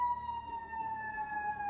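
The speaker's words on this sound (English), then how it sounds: "wow, are those sirens ever going at it" Emergency sirens wailing outside, with a large fire truck passing by, a sustained steady tone holding loud throughout with little change in pitch.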